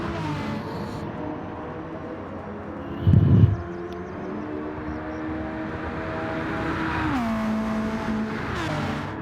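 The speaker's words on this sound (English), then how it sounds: "Never get bored of seeing a car go through on Rouge." Race car engine droning through Eau Rouge at Spa-Francorchamps in Gran Turismo 7 in wet conditions, a steady high whine with a brief low thump, then pitch dropping and rising again as it shifts and accelerates.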